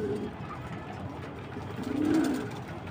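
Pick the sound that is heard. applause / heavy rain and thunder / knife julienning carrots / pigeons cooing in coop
pigeons cooing in coop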